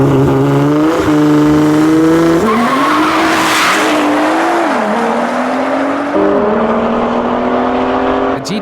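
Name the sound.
Nissan GTR and Audi RS3 drag racing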